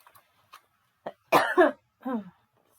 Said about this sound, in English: I'm hoping I can get through this too without too much coughing